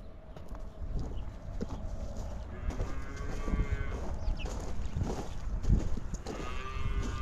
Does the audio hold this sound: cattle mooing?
yes